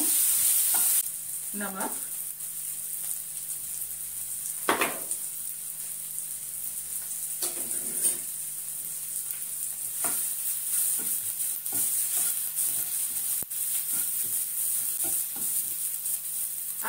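Chopped tomatoes fry in a pan with a steady hiss, punctuated by scattered stirring scrapes and clatters. A high electrical whine sits over everything, and a voice briefly says one word.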